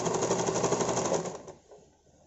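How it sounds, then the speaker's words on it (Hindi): An electric sewing machine stitches a cloth face mask in a fast, steady mechanical rattle for about a second and a half, then stops and leaves near silence. "ये देखिए फिर मैं इसको पलटी करके और इसको बराबर करके ऐसे सिल रही हूँ।"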